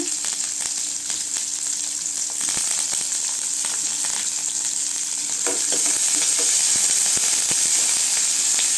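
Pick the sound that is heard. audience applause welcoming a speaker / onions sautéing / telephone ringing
onions sautéing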